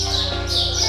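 Small birds chirp and tweet in a short, bright burst at a historic stone temple in Rajasthan with carved stone lattice work, a few overlapping calls close by.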